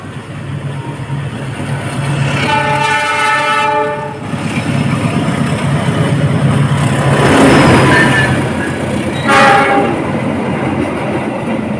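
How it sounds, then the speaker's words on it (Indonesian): The Taksaka Pagi train passes straight through Bumiayu station, a loud rolling roar with a long blaring horn blast, then a second shorter horn near the end, close by. "kita tunggu kereta api Taksaka Pagi melintas langsung stasiun Bumiayu"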